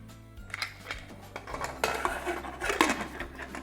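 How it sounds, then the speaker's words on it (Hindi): Clattering and thuds of vegetables dropping into a metal pressure cooker, with scattered clinks and knocks of utensils, close and moderately loud. "अब ये सब्जियां भी हमारे प्रेशर कुकर के अंदर।"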